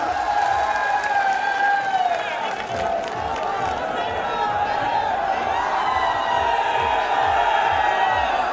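Large outdoor crowd at a Rajasthan political rally in Viratnagar, with Sachin Pilot present, applauding and cheering in a steady, dense roar that holds throughout, with voices and whoops mixed in.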